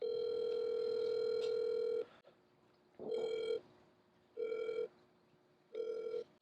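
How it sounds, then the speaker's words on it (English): A telephone ringback tone sounds on an outgoing call, one long tone followed by three shorter evenly spaced tones with quiet gaps between, clear and steady. "It's ringing."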